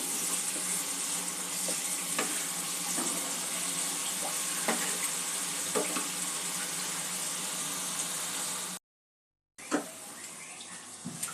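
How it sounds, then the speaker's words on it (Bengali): Spice paste with a little water frying on a medium flame for a Bengali boal fish curry, a steady close sizzle with scattered stirring scrapes, a brief silent gap near the end, then more sizzling. "মিডিয়াম ফ্লেমে মশলাটা ভালো করে কষিয়ে নেব।"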